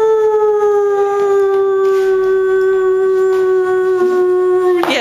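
Blind pit bull puppy howling in one long, steady, wavering tone with clear harmonics, close and loud, holding for several seconds before breaking off.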